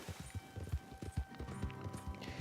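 Horse hooves galloping in Red Dead Online as the horse Orion runs laps on a pig farm: quick, rhythmic clip-clop beats, close and steady.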